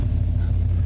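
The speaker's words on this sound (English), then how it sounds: "Has a great sound, nice rumble." A 1990 Chevrolet K-5 Blazer engine idles with a steady, deep low rumble, close and continuous for the whole stretch with no other sounds over it.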